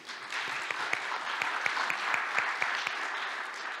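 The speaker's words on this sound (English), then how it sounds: "additional applause to Anatoly, please" Forum audience applauds a speaker named Anatoly at a technology conference in Almaty, a moderate hall-wide clapping with a few sharper individual claps standing out, steady for nearly four seconds.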